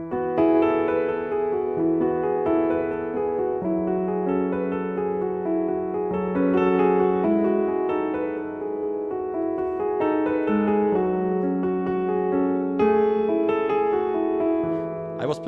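Piano chords ring out one after another, shifting between notes in a slow, even pattern, played close and alone for about fifteen seconds.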